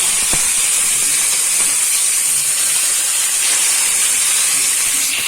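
Ghee tempering for restaurant-style matar paneer hisses loudly and continuously, a dense unbroken sizzle heard up close with no voices.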